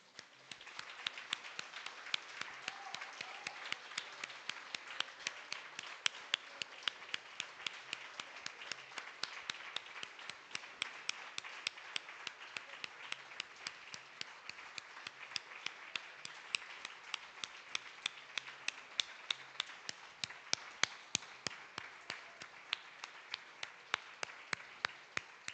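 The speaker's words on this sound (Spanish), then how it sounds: "Ahora vamos a aplaudirle al Rey." A church congregation claps hands together in a steady, even rhythm that runs without a break, close and fairly loud, with no voices heard.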